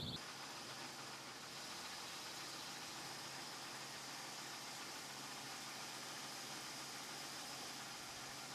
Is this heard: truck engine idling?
yes